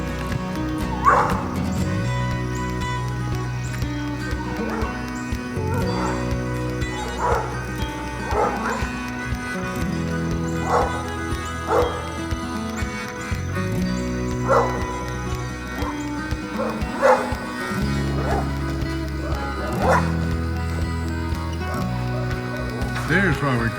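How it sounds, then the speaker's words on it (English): Neighbor dogs, including a black one, bark repeatedly in a rural Georgia setting in fall, sharp barks and yips recurring every few seconds at moderate distance over a steady low rumble, with a person talking throughout. "We stir up a ruckus with the neighbor dogs."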